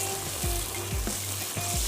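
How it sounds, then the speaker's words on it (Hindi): Food sizzles while frying in oil for hara masala biryani, a close, steady crackle with stirring and a few soft scraping strokes. "बाद में आप निकालें और इसको फ्राई करें।"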